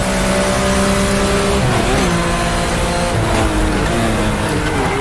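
Porsche RSR 74 race car in a racing simulator, its engine roaring loud and close as it accelerates down a straight, pitch climbing steadily, with a brief shift and more revving.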